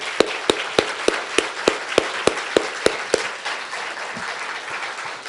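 An audience at a neuropathy awareness day event applauds for Jerry Mathers, with a run of evenly spaced, distinct loud claps standing out over a diffuse crowd clapping that tapers off toward the end.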